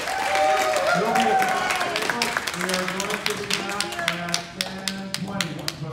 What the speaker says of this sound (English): Give another thunderous round of applause